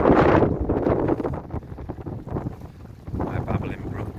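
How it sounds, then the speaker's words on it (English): Strong gusts buffet the microphone in loud rushing bursts that ease and return, with faint talking underneath. "It's really windy."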